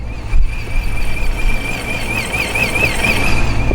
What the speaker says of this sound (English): this blower sounds way cooler than the other one